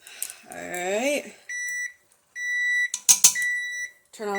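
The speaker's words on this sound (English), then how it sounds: "Turn off the timer." A kitchen timer sounds during home cooking of an Asian curry, giving two steady electronic beep tones with a short gap between them. Someone talks just before the beeps and again after them, and there is a clatter near the end.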